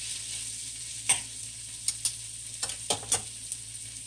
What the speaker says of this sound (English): Let this onion back in that pan.